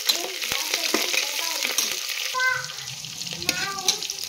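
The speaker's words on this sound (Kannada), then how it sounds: "ಇದು ಕ್ಯಾಪ್ಸಿಕಮ್ ಸ್ವಲ್ಪ ಫ್ರೈ ಆಗಬೇಕು ಚೆನ್ನಾಗಿ." Capsicum and curry leaves fry in a hot pan with mint, giving a steady bright sizzle broken by scraping stirs and clinks of a spatula, close and fairly loud with no talking.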